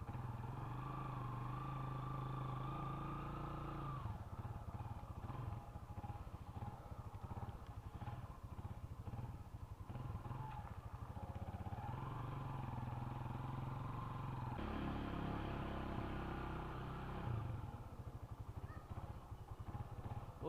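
A Rusi Class 250 motorcycle engine idles steadily while warming up, a low, even chugging rumble that runs on unbroken and fairly quiet with slight variations in tone.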